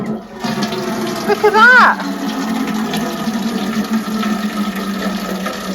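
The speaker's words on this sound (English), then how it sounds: "how to turn the tap on" Water from an outdoor garden tap runs steadily into a black water butt in Somerset, a continuous close splashing hiss heard alongside excited talking from a child and an adult.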